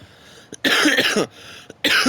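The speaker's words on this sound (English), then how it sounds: "just need to clear my throat" A throat clearing in two rough, raspy bursts separated by a short pause, close and fairly loud, with faint clicks in between.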